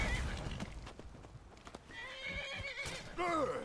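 A horse in Skyrim whinnies with wavering, descending neighs and clip-clopping hooves, the loudest whinny arriving at the end, set against faint game ambience.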